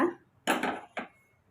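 A spoon scrapes around inside a pot of milk for kozhukattai in two short strokes, close by, with a faint clink and then quiet.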